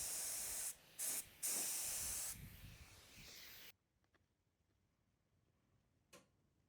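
Spray primer hisses onto a bare-metal emergency brake part for a Porsche 356 in loud, close bursts: two short breaks, then a long steady spray that stops abruptly, followed by quiet with one faint later puff.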